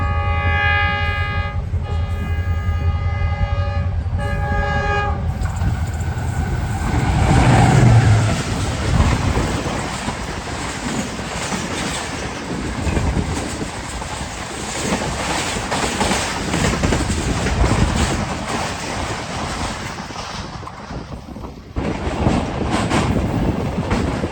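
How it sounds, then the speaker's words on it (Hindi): A freight train passes a railway station, opening with a loud multi-tone horn blast, then a long rumbling clatter of wagons rolling by, ending abruptly. "कोई मालगाड़ी वगैरह है।"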